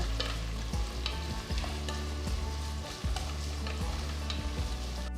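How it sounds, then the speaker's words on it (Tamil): Sliced onions and two green chillies sauté in oil in a pan, a continuous close sizzle broken by a steady rhythm of spatula strokes scraping and stirring, with no talking. "நீல வாக்கில் நறுக்கின ரெண்டு வெங்காயம் கீர்ன ரெண்டு பச்சை மிளகாய் சேர்த்து வெங்காயத்தை பொன்னிறமாக வதக்குங்க"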